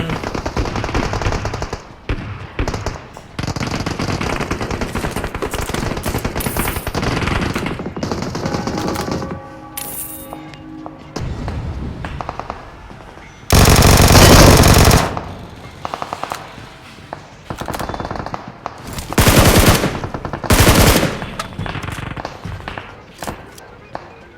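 A video game produces rapid bursts of automatic gunfire and single shots. Loud volleys alternate with brief pauses, and voices talk over the action at times.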